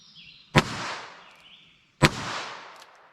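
Two sharp gunshot cracks from a revolver firing CCI Stinger .22 LR rounds, about a second and a half apart, each with a loud snap followed by a fading outdoor echo.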